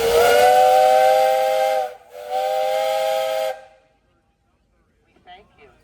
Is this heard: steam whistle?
yes